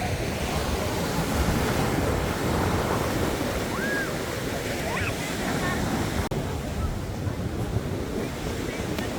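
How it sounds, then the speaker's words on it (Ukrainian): Sea surf washing onto a beach at a Turkish resort, a steady broad roar of breaking waves with wind buffeting the microphone throughout, fairly close and continuous with no clear gaps. "Дивіться, яке море, які хвилі, красота."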